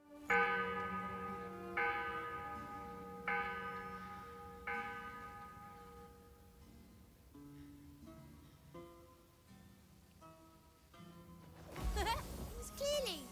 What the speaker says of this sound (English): Get close to this bell and ring it.